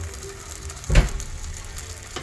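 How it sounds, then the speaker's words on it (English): Steady crackling sizzle of pork fat frying in a pan, with a single dull clunk partway through. "Because I want the fat to sizzle."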